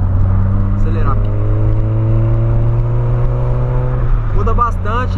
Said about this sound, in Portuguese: Vou acelerar aqui.